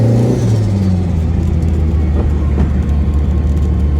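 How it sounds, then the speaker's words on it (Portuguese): A turbocharged car drives along, its loud engine drone and low rumble steady and close throughout, with road noise but no distinct flutter bursts standing out. "Nossa, dá vontade de ficar só andando de carro, velho."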